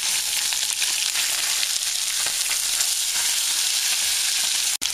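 Salmon fillets pan-searing in a hot pan, giving a steady, loud, continuous sizzle and crackle throughout, close up with no voices.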